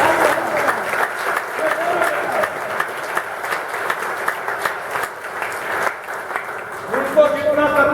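An audience applauds steadily throughout a motivational talk for students, the sustained clapping filling the room, with a voice briefly audible near the end.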